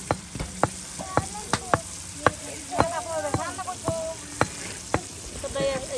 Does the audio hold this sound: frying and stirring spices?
yes